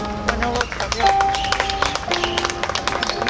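Wedding guests applaud and cheer during the march-out ceremony, a steady patter of clapping from a crowd mixed with music and an emcee's voice over a sound system.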